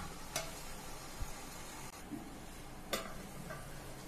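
Mushroom biryani masala fries in a covered pot with a steady, close sizzle, broken by a few sharp clicks and light stirring knocks.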